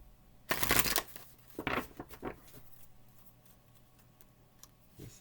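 Oracle cards are shuffled close up in a few quick riffling bursts, a loud first flutter followed by shorter softer ones, then quiet with a faint tap at the end.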